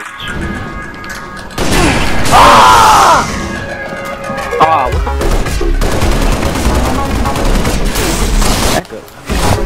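Gunfire from the Halo Reach free-for-all video game crackles in dense bursts and booms, loud and layered, with players talking and reacting throughout.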